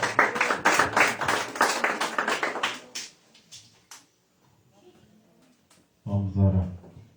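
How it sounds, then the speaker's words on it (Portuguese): A church congregation claps and cheers loudly for a few seconds, fades out, then a voice speaks up after a short quiet pause. "Receba o céu do Senhor com palmas para Jesus"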